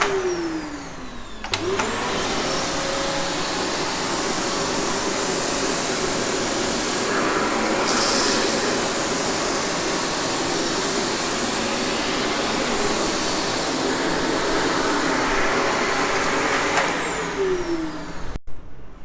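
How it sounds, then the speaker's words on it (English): An AmazonBasics vacuum cleaner runs steadily and loudly for nearly the whole stretch, a constant whirring motor drone with a brief spin-up at the start and a quick cut-off near the end, with no talking. "you can also judge the noise levels of this vacuum cleaner"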